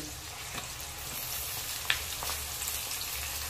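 Chicken pieces frying with onions in mustard oil in a pan, a steady soft sizzle with an occasional spatter pop, faint and even throughout.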